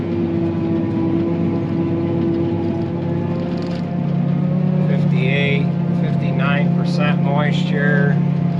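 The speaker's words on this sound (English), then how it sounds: "And then we got Davy coming in with the truck 9" A farm truck pulls into a corn field with a steady, droning engine and low rumble throughout, louder and close, while people talk over it in the second half.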